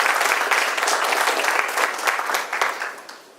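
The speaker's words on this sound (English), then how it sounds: "So please give him a round of applause." An audience at a civil liberties forum applauds, a dense burst of many hands clapping close and loud, holding steady before tapering off toward the end.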